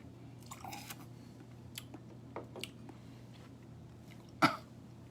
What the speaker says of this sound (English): Let's take a sip.